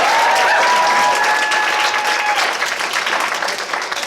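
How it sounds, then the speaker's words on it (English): Audience applause for volunteers coming up on stage at a live show, a dense, steady clapping from a sizeable crowd that holds strong throughout with a few whistles early on. "Round of applause for them."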